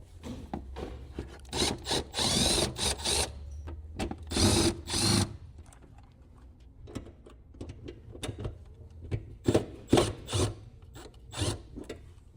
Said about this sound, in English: So we'll go ahead and remove these guys right here.